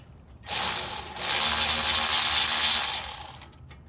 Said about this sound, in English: Now let's go ahead and remove these bolts.